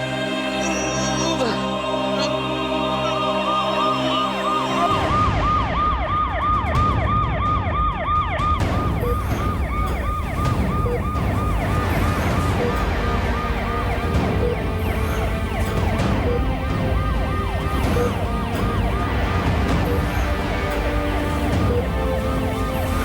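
An ambulance siren wails in a fast, rising-and-falling pattern, starting abruptly after a few seconds and continuing loudly and steadily to the end over low traffic noise.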